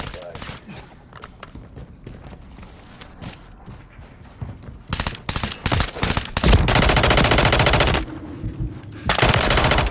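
SMG gunfire in Modern Warfare 3, fired in bursts that build to sustained, loud automatic fire with short pauses between strings. A player talks over the shooting.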